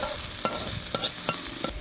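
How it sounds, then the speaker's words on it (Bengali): Chopped onions with bay leaf and whole cumin frying in oil until brown, a steady close sizzle broken by several sharp scrapes of a spatula stirring the pan, no voices. "এখন ফোড়নের পেঁয়াজটাকে আমি বাদামি করে ভেজে নেব।"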